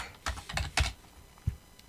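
Typing a cluster configuration on a computer keyboard: a few close, distinct keystroke clusters with short pauses, alone and fairly clear.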